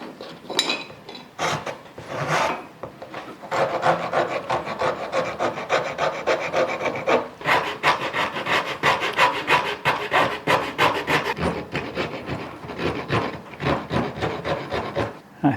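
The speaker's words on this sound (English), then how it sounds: "rasps to tear into the wood and sort of shape it as I would like" Repeated rough rasping strokes of a wood rasp shaping wood, rhythmic back-and-forth scraping, close and fairly loud, with brief pauses between bursts.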